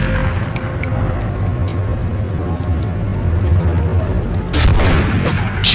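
Gunfire rattles through a shooting scene in The Punisher video game, a dense, loud, continuous roar of shots and rumbling blasts that swells into a sharper burst of fire near the end, with no talking.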